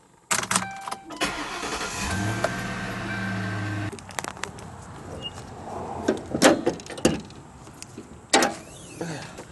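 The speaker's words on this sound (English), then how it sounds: "Let's move the car a little bit and install that part." A 2007 Ford Crown Victoria with an overheating fault is shifted a short distance, with a steady engine hum and door and mechanical clunks giving way to scattered knocks and handling noises nearby.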